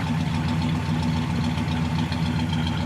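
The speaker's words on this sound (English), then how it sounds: "That exhaust now." A 1964 Pontiac GTO post coupe idling through its stock-style exhaust, a close, steady low burble with an even pulsing rhythm and no talk over it.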